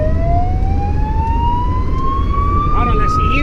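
An ambulance siren on a Protección Civil assistance run in Cheste, Valencia, rising in a steady wail that is loud and close over road rumble, with a brief extra chirp near the end.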